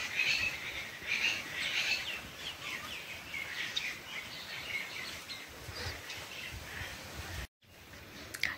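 Harsh, scratchy bird calls, likely myna, repeat in bursts through a rural outdoor scene, moderately close, with other birds and insects faintly behind and a brief dropout near the end.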